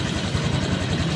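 A Honda Click V2 scooter engine idles steadily during a throttle adjustment, a close, constant low rumble with no talk over it.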